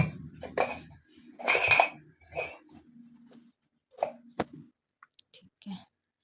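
Small plastic balls dropped into gift containers, giving a few soft clacks and light plastic knocks in scattered bursts, interleaved with someone speaking.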